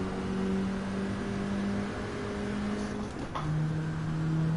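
A car engine warms up in the racing game GT Sport, holding a steady droning idle with a brief rev change partway through, continuous and fairly loud with no talk.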